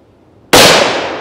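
A single sharp, loud gunshot cracks at about 20 yards as it strikes homemade bulletproof shoulder armor, breaking a quiet pause with a sudden blast and a bright, lingering ring.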